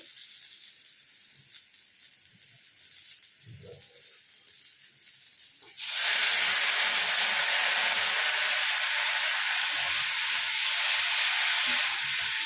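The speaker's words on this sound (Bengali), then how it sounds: "এবারে আমি এখানে ম্যাগি মশলাটা দিয়ে দেবো। একটু জল দেবো।" Water poured into a hot pan with Maggi masala bursts into a loud, steady sizzle that starts abruptly and continues to the end, after a quieter stretch of faint frying and stirring.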